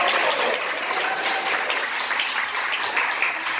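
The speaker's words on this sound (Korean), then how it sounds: "박수." A short burst of dense clapping from a crowd, steady and lively throughout.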